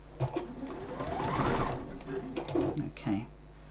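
A sewing machine stitches a seam on a fabric bag with a rapid, steady mechanical whir that speeds up and slows, fairly close, with bursts of chatter and talk around it.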